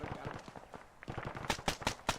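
Gunfire in the video game Arma 3 during a squad exercise, rapid strings of shots that start muffled and distant and then become louder, sharper cracks in quick succession toward the end.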